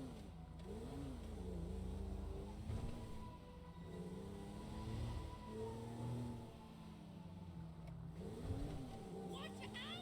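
A car drives through GTA 5 with a steady mid-pitched engine drone that swells and eases as it accelerates, continuous and fairly close, with game ambience around it.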